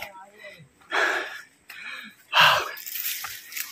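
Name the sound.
heavy panting breath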